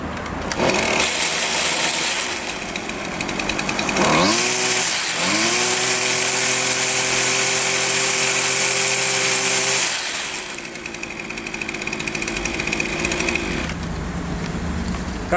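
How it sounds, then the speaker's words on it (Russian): Husqvarna 128R string trimmer with a freshly cleaned exhaust starts up, its small two-stroke engine revving high, dropping briefly, then climbing to a loud sustained whine before settling back, close by. "И теперь попробуем его заведем."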